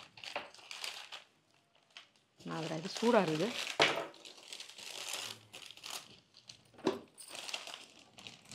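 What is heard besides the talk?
paper wrapping crumpled while unwrapping a gift box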